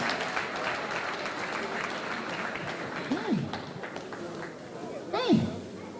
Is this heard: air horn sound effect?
no